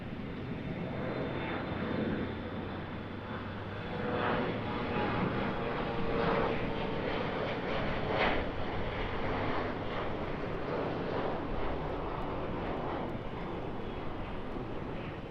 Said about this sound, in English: And we have this United Embraer depart.